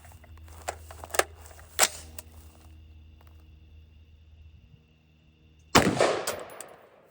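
An M193 55-grain rifle round is fired at a level 3+ armor plate outdoors: a few faint earlier clicks and thumps, then one sharp, loud report with a decaying tail near the end.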